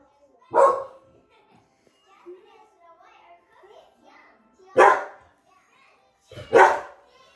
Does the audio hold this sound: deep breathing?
no